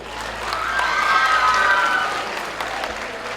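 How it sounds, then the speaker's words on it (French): Sustained audience applause at a closing ceremony for a student film festival, honoring the jury members, swelling to a loud dense peak and then easing off over a few seconds. "Membres du jury, on applaudit très très fort."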